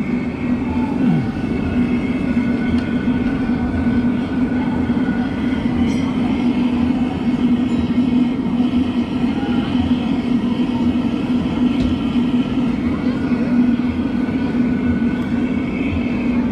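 A gas torch used for glassworking, turned all the way up, roars steadily with a loud constant hum and hiss that runs the whole way through, voice talking over it.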